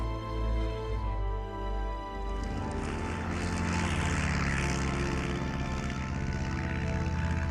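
A single-engine propeller aircraft drones steadily and loudly, its engine tone building and broadening midway as it passes close, with no talk over it.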